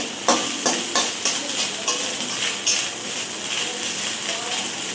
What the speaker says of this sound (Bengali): নারকেলটা ভাজা হচ্ছে